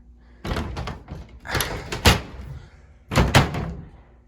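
A broken, warped interior door that will not close is pushed and shoved, making three loud clusters of close thumps, knocks and rattling bangs with short pauses in between.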